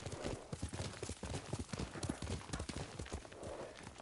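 Horse hooves clip-clop in a steady, quick rhythm in the video game Ghost of Tsushima, a galloping patter under faint ambient game sound.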